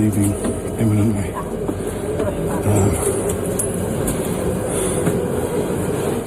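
Train running on rails with a steady low rumble and rattle throughout, a crowded passenger carriage around it, with voices and chatter mixed in.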